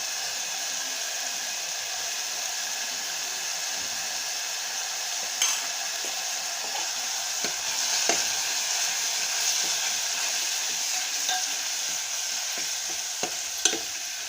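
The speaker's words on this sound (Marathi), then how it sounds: "हिरवी मिरची आणि लसणाची पेस्ट परतून झाली की त्यात हळद टाकायची आहे।" Green chili and garlic paste with turmeric frying in a pan, giving a steady loud sizzling hiss throughout with a few sharp crackles and spatula scrapes near the end; no talking.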